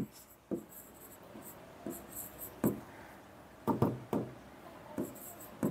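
Pen or chalk writing out a word on a board during a numerical analysis lecture, scattered scratchy strokes and taps at an uneven pace, fairly close and alone with no talking.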